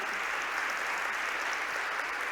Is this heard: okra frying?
no